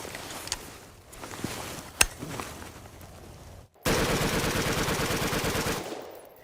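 Gunfire from a rifle with a bump stock on an outdoor range: a couple of isolated single shots first, then a sudden loud, rapid burst of continuous automatic-sounding fire lasting about two seconds before it stops.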